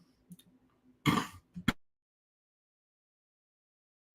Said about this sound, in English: excuse me, I got a cough here.